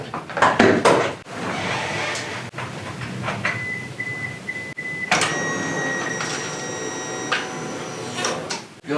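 Fuel pump of a 2000 Honda Passport primes after the engine is reinstalled. A few clunks and clicks lead into a thin steady whine, then a louder layered electric hum that holds for several seconds before stopping.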